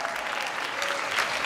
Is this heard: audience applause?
yes